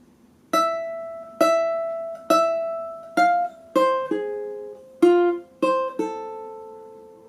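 Plucked ukulele notes play a short, simple melody, about nine notes with slight pauses between them, each ringing briefly and fading, played alone.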